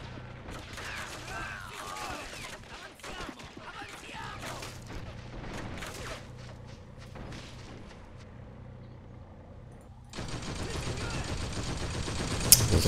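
DShK heavy machine gun firing in the Men of War strategy game during a town battle, muffled bursts and distant battle noise under faint talk, ending in a louder sustained roar of fire.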